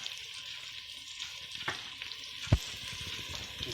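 Green beans seasoned with Tony Chachere's Creole seasoning sizzle steadily in a pot for Southern-style green beans, with a soft continuous hiss, light stirring scrapes and one brief clunk partway through.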